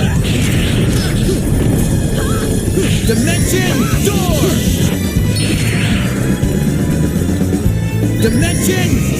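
Explosion spell effects from the PS2 game Star Ocean: Till the End of Time, dense crashes and bursts mixed with battle noises and voice shouts, loud and continuous throughout.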